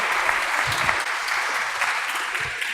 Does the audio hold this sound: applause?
yes